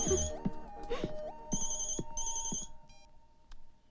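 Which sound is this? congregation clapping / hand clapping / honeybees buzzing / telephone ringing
telephone ringing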